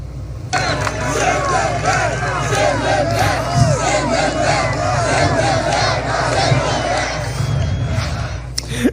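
A large MAGA rally crowd roars and chants in reaction to a speech, a dense continuous wall of shouting and cheering voices, loud and sustained throughout.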